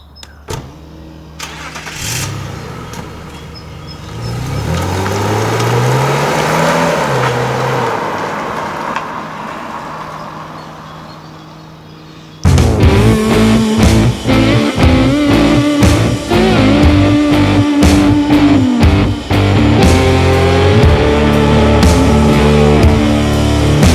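A 3.0-litre BMW E39 530i engine turns over and fires up, then runs with a rising and falling note before the sound cuts to a louder, steady engine drone with sharp clicks and knocks, all close and with no voices.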